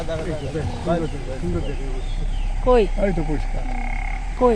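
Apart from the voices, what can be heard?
frog croaking in the forest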